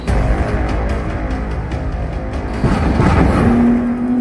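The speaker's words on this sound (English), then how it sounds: "Even though it's a 50-year-old car, the 917 is fast by the standards of any decade." A roaring Porsche 917 race engine, a 50-year-old endurance racer, blaring loud and close in a sustained broadband drone that swells briefly near the end.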